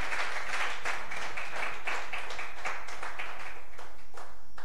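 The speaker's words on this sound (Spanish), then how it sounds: "¿Cuánto le dan un aplauso al Señor?" Audience applause in a church congregation, steady sustained clapping from many hands, fairly close and loud, with no talk over it.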